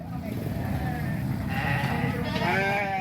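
Sheep and goats brought for Eid al-Adha sacrifice bleat repeatedly in an outdoor village setting in Bireuen, their calls rising over a steady crowd murmur and background voices.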